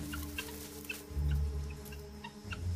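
A flock of guinea fowl huddled together in the Congo squawks in a run of harsh, rapid, overlapping calls over a low, rumbling background.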